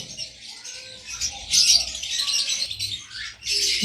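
Double red factor sun conure parrots chirp and squawk in shrill, overlapping bursts, close and fairly loud, with a few soft whistles and some wing flutter in an aviary.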